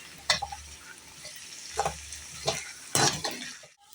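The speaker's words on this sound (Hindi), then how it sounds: "तीन मिनट तक हमने अदरक लहसुन के पेस्ट को भी इसमें भून लिया।" Ginger garlic paste frying with onion and taro in oil, a soft steady sizzle under several brief stirring scrapes of a utensil against the pan, close by, with no talking.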